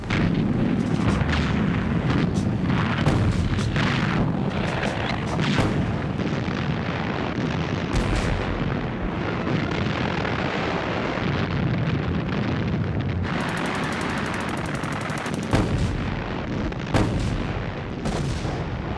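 World War 2 naval guns fire shells in a heavy barrage, loud booming blasts and bursts repeating irregularly over a rumbling backdrop, some sharp reports standing out near the end.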